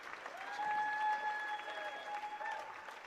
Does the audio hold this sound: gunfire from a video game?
no